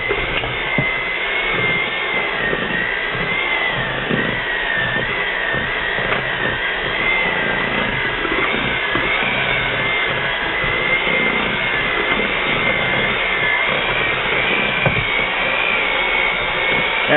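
Electric mixer whirring steadily as it mixes ingredients, a continuous close motor drone that holds an even level for the whole stretch, with no voices.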